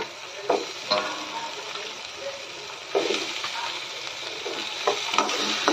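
Cut eggplant frying in oil with onion and tomato for a dry fish curry, giving a steady sizzle with periodic scraping strokes of a spatula against the pan, fairly close.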